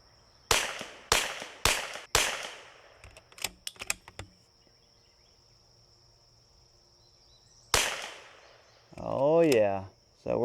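Four sharp CZ 455 rifle shots at a target in quick succession, each with a short decaying ring, then a few lighter clicks, a pause, and one more loud shot followed by a brief voice.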